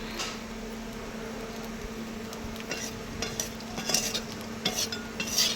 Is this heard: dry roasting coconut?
yes